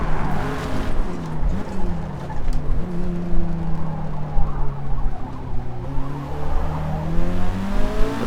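A car engine in Forza Motorsport drones and revs steadily through a lap, its pitch rising and falling with shifts, and faint tire noise sits underneath.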